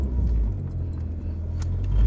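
Low road rumble and engine hum fill the cabin of a family car on the move, steady and close, with faint light jingles over it.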